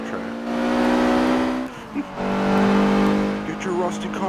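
Race cars roar around a track in Forza Motorsport 7, with a loud sustained engine drone that dips briefly and then surges again as the revs climb, and a faint squeal near the end.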